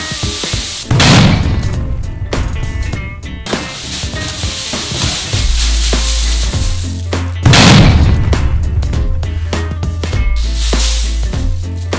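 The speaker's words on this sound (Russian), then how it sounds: "Направляем пушку внутрь мешка и взрываем." A rice puffing cannon fires into a bag, giving two loud booming blasts followed by rushing, crackling bursts of puffed rice, with a steady low machine drone between them.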